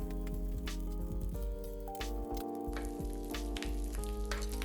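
Three slices of hickory-smoked bacon fry in a pan with a continuous, crackling sizzle over loud background music.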